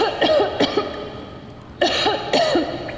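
Repeated close coughing in two clusters, several harsh bursts each, loud and alone over a quiet background.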